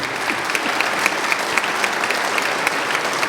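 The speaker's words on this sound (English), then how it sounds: "giving them a good round of applause" An audience at a gathering to introduce an FEA president-elect applauds, with steady, dense clapping from a full room that carries on without pause.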